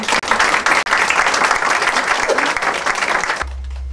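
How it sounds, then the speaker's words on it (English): An audience at an improv theatre show applauds in dense, lively clapping that carries at a steady level and then cuts off abruptly near the end, leaving a low hum. "And you applaud."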